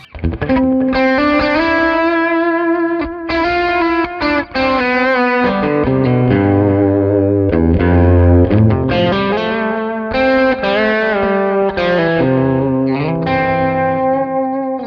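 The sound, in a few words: electric guitar through delay pedal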